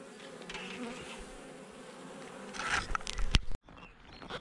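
Dense buzzing of many honeybees at a queenless hive, steady and close, with a few louder rustling knocks near the end before it cuts off abruptly.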